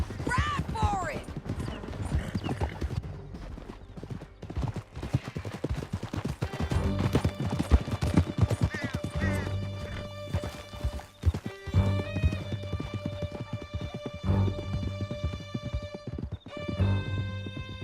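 A horse gallops hard in Red Dead Redemption 2, the clip-clop of hooves loud and steady throughout, with whinnies, the rattle of tack and voices shouting over the ride.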